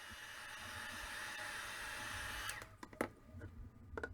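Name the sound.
heat gun drying gesso on metal embellishment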